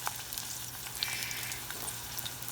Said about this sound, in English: now we can start hearing a little bit of sizzle.